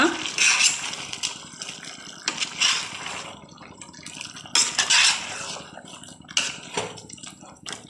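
Chicken being stirred with green masala in a pan makes repeated scraping and clinking bursts of utensil on metal, with soft liquid sizzling and bubbling between strokes.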